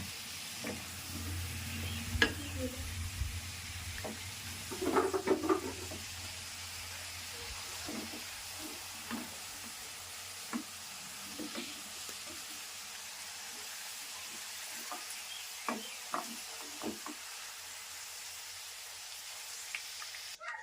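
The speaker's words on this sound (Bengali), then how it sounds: "আলুগুলো আমি ভালো করে ভেজে নিয়েছি। এবার আলুগুলো আমি উঠিয়ে নেব।" Potatoes that have been frying in oil are lifted from the pan: a steady soft sizzle and hiss runs throughout, with intermittent scraping and stirring clicks from a utensil, close and moderate, no talking.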